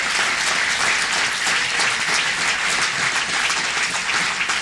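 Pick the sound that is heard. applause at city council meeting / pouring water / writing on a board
applause at city council meeting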